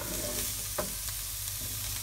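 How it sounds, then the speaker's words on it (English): Bacon going into a hot pan for a crustless quiche, giving a steady close sizzle with a few brief clicks and scrapes and no talk. "Alright, now we'll put the bacon in."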